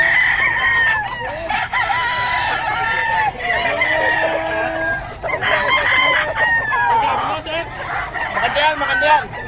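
Chickens and roosters at a busy live-poultry market crow and cluck continuously nearby, layered over steady chatter from people talking.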